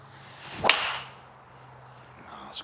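A Callaway Quantum golf driver strikes a ball with one sharp, loud crack, followed by a fading tail over a faint steady hum and a small click near the end.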